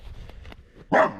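A trapped coyote lets out a single loud, close bark after a stretch of quiet, faint rustling.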